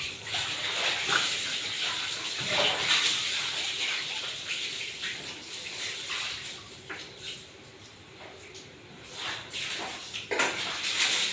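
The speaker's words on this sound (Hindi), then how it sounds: "हम सीढ़ी पर आ गए हैं पानी लेके धोने के लिए" Water sloshes and splashes across stairs being washed at home in steady wet gushes. Scrubbing and pouring noises come close and fairly loud, with faint birds in the background and no talk.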